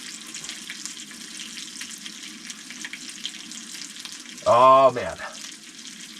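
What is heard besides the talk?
trout frying in a pan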